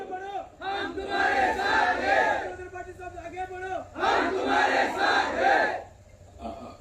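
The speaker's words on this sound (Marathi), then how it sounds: "एकदा जोरदार टाळ्या झाल्या पाहिजे" Crowd at a village political rally in Nimsakhar ahead of a state assembly election, loudly chanting and cheering in two long bursts with a short lull between them.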